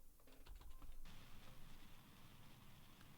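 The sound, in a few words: typing on a stuck computer keyboard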